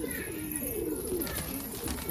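Captured pigeons, among them a Patiala, coo in a short low warbling run close by, with a steady background hum.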